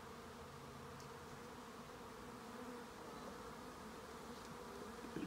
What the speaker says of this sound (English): Covered in bees. I love the sound of it.